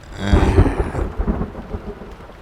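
Rain and a rumble of thunder open a hip hop track as a sound effect, a loud rolling boom over a wash of rainfall that fades after the first second, with no voices.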